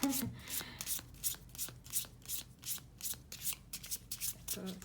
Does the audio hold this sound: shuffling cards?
yes